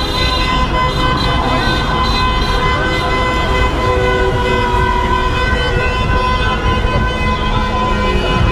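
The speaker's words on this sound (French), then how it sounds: "Ça klaxonne vraiment pas mal." Car horns honk over heavy traffic on the Champs-Élysées after the France–Portugal match, a loud, continuous wash of overlapping toots and engine noise with no pause.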